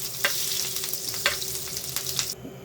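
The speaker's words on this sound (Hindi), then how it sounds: "पान जल्दी से गर्म कर लेना है, उसमें आपने मक्खन डालना है।" Butter heating in a hot pan gives a steady, close frying sizzle with faint crackles and occasional stirring scrapes, no voices.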